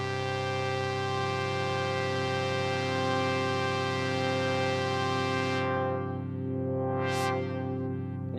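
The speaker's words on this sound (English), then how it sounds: "You can hear I have this nice, very rich chord happening." Moog semi-modular synthesizers sustaining a rich six-note chord, a dense steady drone of stacked tones that holds for several seconds before its upper harmonics are suddenly cut, with a filter sweep rising and falling near the end.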